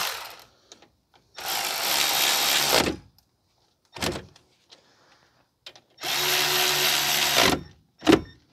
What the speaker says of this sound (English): Tighten up the caliper bolts.